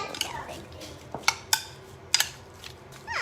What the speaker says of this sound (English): And then let's give that a little stir.